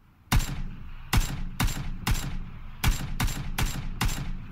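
Rapid bursts of gunfire from PUBG shooting at a vehicle tire, about eight sharp, loud shots in an uneven rhythm, each ringing briefly before the next, with no talk over them.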